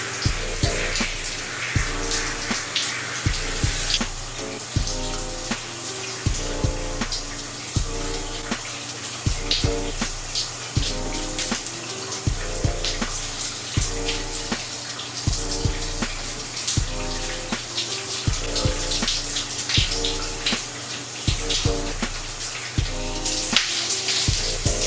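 Shower water running steadily while hair is rinsed after a rice water treatment, a continuous close hiss and splash with a rhythmic, music-like pulse throughout.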